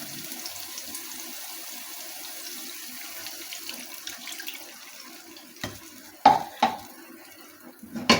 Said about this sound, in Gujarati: હવે એમાં આપણે 1/4 કપ જેટલું પાણી ઉમેરીએ